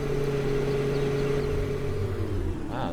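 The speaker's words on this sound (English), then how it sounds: "Wow, that's really loud for, like, reversing" A farm vehicle reversing in Farming Simulator 15, a loud, steady engine drone with a low hum and a sustained tone that holds level, easing slightly near the end.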